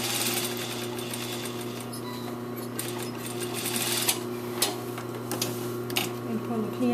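Sewing machine stitching a fly zipper, a continuous close motor hum with fast rhythmic needle ticking and a few sharper clicks, alone without talk.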